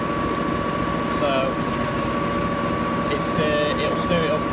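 A tractor engine runs steadily at 1,000 RPM, driving a stirrer in a slurry pit, a constant loud droning hum with a tonal whine throughout.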